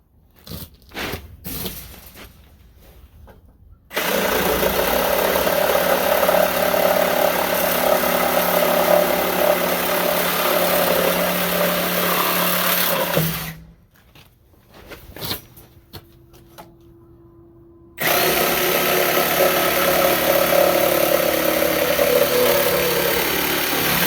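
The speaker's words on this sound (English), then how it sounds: "Now I can get the Sawzall and cut this board out here for the doorway." A Sawzall reciprocating saw cuts a board out for a doorway in a dog kennel build, running in two long, loud, close bursts with a short quiet gap and a few brief blips between them.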